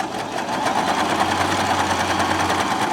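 A Baby Lock Zest sewing machine runs steadily on a longer stitch length, a continuous close mechanical whir with a fast, even needle rhythm and no talking.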